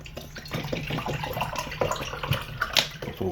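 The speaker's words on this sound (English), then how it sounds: "Pour up a little water." Water poured into a cup for a drink, a close, uneven splashing trickle with small bursts over a few seconds, no talk.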